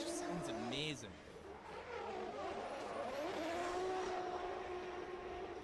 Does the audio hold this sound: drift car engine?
yes